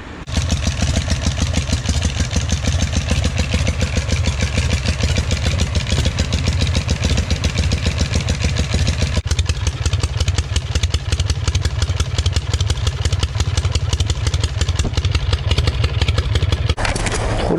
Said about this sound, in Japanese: エンジンかかるようになったんで、